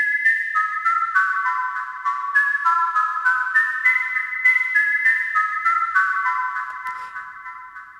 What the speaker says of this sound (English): you're going to hear this delay bounce back and forth as if it is a ping pong ball traveling from either side of a ping pong table